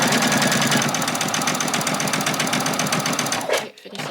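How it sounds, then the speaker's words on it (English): A sewing machine back-stitches fabric for a bag, its rapid needle chatter running steady and close for about three and a half seconds before cutting off abruptly near the end. "we're going to do a couple of back stitches"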